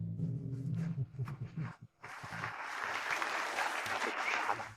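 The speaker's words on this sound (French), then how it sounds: "Applaudissons chaleureusement pour accueillir le PDG de la Société Dubois" Audience applause at a corporate gala as a company CEO is welcomed on stage, starting after a brief mixed stretch and swelling into a dense, sustained clapping that fills the room for the remaining few seconds.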